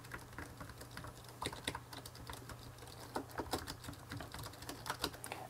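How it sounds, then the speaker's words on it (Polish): Typing on a Gigabyte Force K7 scissor-switch keyboard produces quiet, rapid, uneven key taps close by over a low steady hum, with no talk. "Bardzo to po prostu przypomina pisanie na klawiaturze od laptopa"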